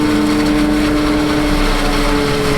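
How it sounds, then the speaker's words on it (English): Kubota SVL 90 skid loader working a silage pit, its engine droning steadily and loudly with a constant tonal hum throughout, no voices. "All this was packed into that Kubota SVL 90 skid loader."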